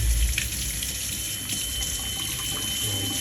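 Tap water running steadily into a sink while fish is washed, a continuous close hiss and splash with small irregular splashes of handling throughout, no talking.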